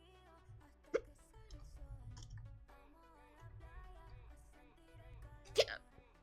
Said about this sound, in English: I'm so sorry, full of hiccups.